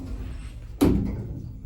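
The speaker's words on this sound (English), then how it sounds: "Doors closing." Lift doors in a shopping-centre lift slide shut with a single firm thud near the end, preceded by quiet room hum.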